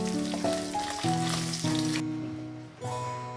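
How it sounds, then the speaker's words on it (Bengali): Oil sizzling in a pan after fish was fried, with tonal ringing notes and hum layered over a steady bright frying hiss that cuts off partway, then a short burst returns, no voices. "আমি আর একটু তেল দিয়ে দিচ্ছি মাছ ভাজার"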